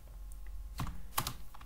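A few quick keystrokes on a computer keyboard while entering HTML list items, close and fairly quiet with soft clicks spaced through a short moment and no speech.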